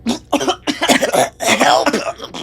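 Harsh coughing from someone caught in a cloud of acrid chemical smoke: several rough, closely spaced coughs in quick succession, close and fairly loud.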